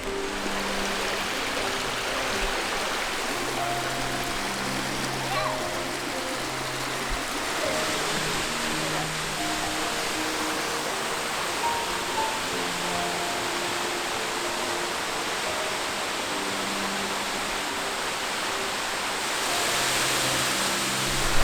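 A waterfall in Michigan's Upper Peninsula in summer gives a steady, soft rushing hiss of falling water, moderately distant and unchanging, with faint low murmurs underneath.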